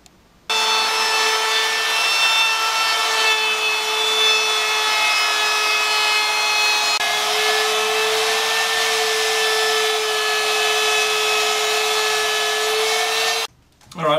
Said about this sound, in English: so I'm just going to sand some of these edges off.